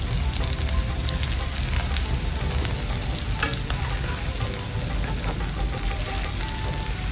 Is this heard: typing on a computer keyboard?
no